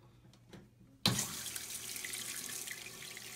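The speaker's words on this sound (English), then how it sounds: "I'm gonna go underneath the toilet, I'm gonna turn the water on, and we're gonna see what happens." Water rushing into a toilet tank through a newly installed Fluidmaster universal fill valve, starting abruptly after a quiet moment and continuing as a steady, hissing, splashing flow, close and loud with no talk.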